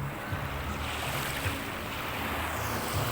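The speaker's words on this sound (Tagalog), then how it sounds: "Pero ngayon kita mo gulong ng tubig, oh. Gulong ng alon, kaya magalaw yung tubig" Rough, choppy sea waves roll and churn murky water at a coastal fishing spot, a steady broadband wash with wind buffeting the microphone and no talk.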